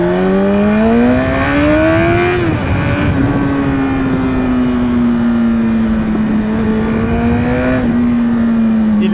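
Engine of a 2007 Honda CBR1000RR sport motorcycle running up close, its steady loud drone rising in pitch over the first couple of seconds as it revs, then settling into a constant hum.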